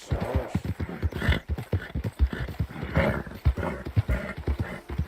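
A horse gallops in Red Dead Redemption 2, with rapid, steady hoofbeats that thud loud and close throughout, and faint snorts and breaths in between.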